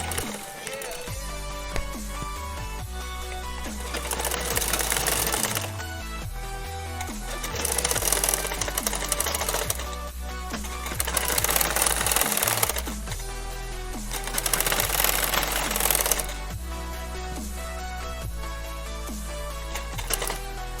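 Sewing machine stitching a second strip of lace alongside an earlier one on the lining and main fabric of a dhoti and patka for a Hanuman idol, running in loud, steady bursts of rapid stitching separated by short pauses.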